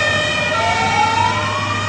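A fire engine siren sweeps slowly upward as the truck drives past on a Zaporizhzhia street, loud and sustained over a low vehicle engine rumble.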